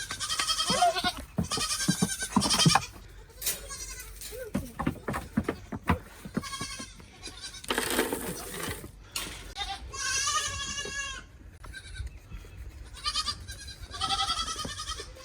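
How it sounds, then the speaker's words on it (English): Goats and sheep bleat repeatedly at a farm milking area, several drawn-out wavering calls overlapping, close and loud, with a person talking briefly among them. "Time for the next goat."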